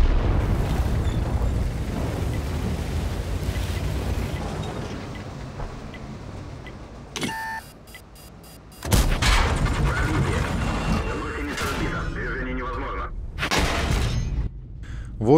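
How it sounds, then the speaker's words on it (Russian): Shell impacts on a tank in a tank combat video game: several heavy, muffled booms and metallic armor-penetration crunches, some loud and abrupt, separated by stretches of low rumbling battle noise. "Окей, переходим к звукам попаданий в танк"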